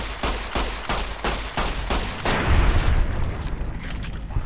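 Video game gunfire crackles in a rapid string of sharp shots, then a denser, heavier burst with a low boom, loud and close with no talking.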